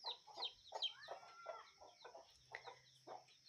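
Chickens cluck repeatedly in short, uneven bursts near a ledge in a village yard, fairly close, with faint high chirps over a steady background hiss and no talk.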